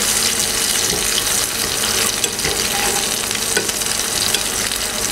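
Pork loin steaks and onion rings fry in a pan with a loud, steady, dense sizzle that holds unbroken for the whole stretch, close up and with no voices.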